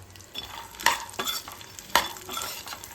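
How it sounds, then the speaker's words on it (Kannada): Cashews, walnuts and pistachios are stir-fried in ghee, a soft sizzle broken by a few sharp scrapes and clinks of a spoon against the pan, close and without talk. "ಕ್ಲೀನಾಗಿ ಮಿಕ್ಸ್ ಆಗಬೇಕು, ತುಪ್ಪದಲ್ಲೇ ಚೆನ್ನಾಗಿ ಫ್ರೈ ಆಗಬೇಕು"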